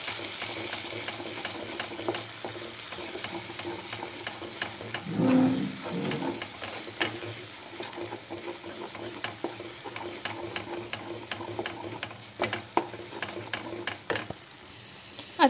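A spoon stirs suji halwa with sugar in a pan, giving repeated scraping strokes over a soft background sizzle, with a louder clatter midway and occasional sharp taps against the pan.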